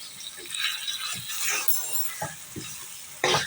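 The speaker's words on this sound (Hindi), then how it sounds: "3 से 4 मिनट हम कीमा को भी इसमें फ्राई करेंगे।" Beef keema mince sizzles and fries in a pan while a spoon stirs it, giving a steady hiss broken by scraping strokes and a louder scrape near the end.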